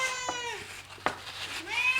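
A cat meows several times up close, drawn-out whining calls with a sharp short cry in the middle, loud and clear against a quiet indoor room.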